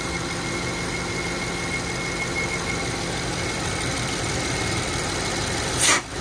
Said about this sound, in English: It sounds like a whistling.